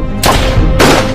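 Two loud, sharp gunshot blasts about half a second apart, booming and close, like gunfire in a film soundtrack.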